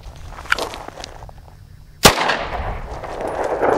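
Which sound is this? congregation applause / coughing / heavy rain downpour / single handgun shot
single handgun shot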